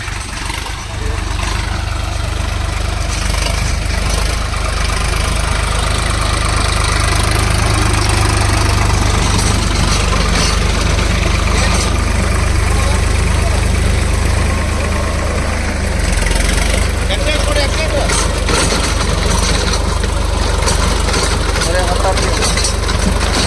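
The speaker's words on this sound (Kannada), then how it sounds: "ಸೊ ಗಾಡಿ ಬರೀ 8 to 9 RPM ಅಲ್ಲಿ ಓಡ್ತಾ ಇದೆ." An Ace 350 40HP tractor engine runs steadily with a 6-foot rotavator attached, a loud continuous low rumble with a knocking diesel character holding throughout, with some voice mixed in.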